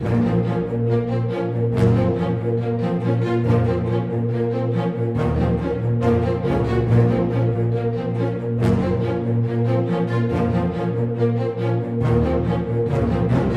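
A sustained synth pad layered with other instruments in an Afrobeats beat plays continuously, with rhythmic accents and steady bass notes underneath.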